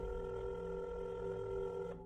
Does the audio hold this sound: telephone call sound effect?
yes